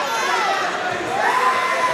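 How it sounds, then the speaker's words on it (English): A large crowd at a heavyweight boxing fight cheers and roars steadily for the whole stretch, a dense, loud wall of voices with swelling shouts and no pause. "man, the crowd's really into this fight."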